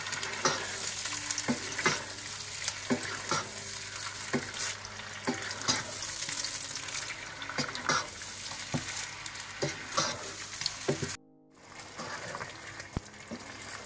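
Chicken with ground ginger and garlic being stirred in a cooking pot for biryani, a steady sizzle under repeated scraping and stirring strokes, briefly cutting out near the end before resuming.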